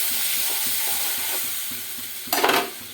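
A spice paste of coriander, cumin, turmeric, salt and chili powder is stirred in hot oil, giving a steady sizzle with a low hum beneath and a brief louder burst of scraping hiss near the end.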